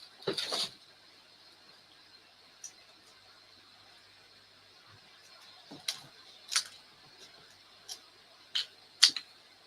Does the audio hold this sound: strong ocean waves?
no